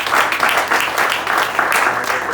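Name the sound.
congregation applause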